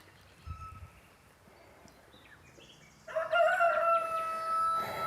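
A rooster crows loudly and close at a chicken coop, following quieter clucks and farmyard rustling.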